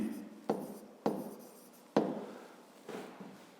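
Chalk or pen writing on a board during a fifth-grade math lesson, with several distinct scratchy strokes starting abruptly and trailing off, close and fairly quiet, with no talk.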